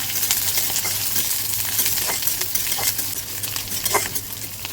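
Garlic, onion and ginger with chilies frying in hot oil while being stirred, a steady close sizzle broken by repeated scraping strokes of a spoon against the pan.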